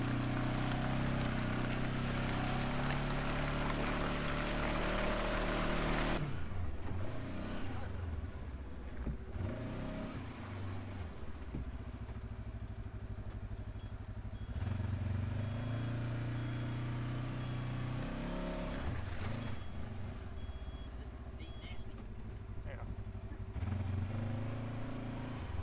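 Segway Fugleman UTV churning through mud, its engine droning steadily with the revs rising and falling over a low rumble, and people talking at points along the way.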